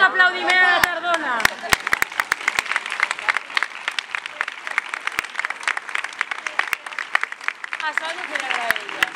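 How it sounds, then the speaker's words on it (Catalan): An audience applauds at a dance show, Danses al Palau 2017 in Aielo: a voice talks over the start, then a sustained run of crisp, scattered clapping carries through the middle before talking returns near the end. "feu-li un fort aplaudiment a la tardona"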